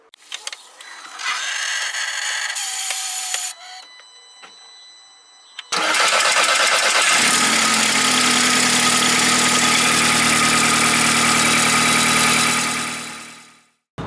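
A 2.0 TSI/TFSI car engine, just fitted with new injectors, cranks and fires after some brief mechanical clatter, then settles into a steady, loud, close idle that holds until it cuts off.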